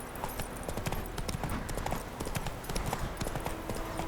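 Roach, a horse in The Witcher 3 video game, gallops with a steady, rapid clip-clop of hooves that stays close and continuous throughout, with no other sounds standing out.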